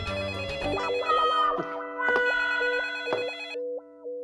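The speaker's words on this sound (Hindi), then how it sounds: "दूसरा फोन बज रहा है।" A telephone rings with an electronic ringtone, a loud, bright melodic pattern repeating in bursts over about four seconds, ending in a few softer tones with no talking.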